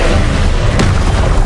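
A Confringo spell explosion in the video game Hogwarts Legacy: one loud, close boom bursts out in the middle of a dense, roaring wall of game noise, with no talking.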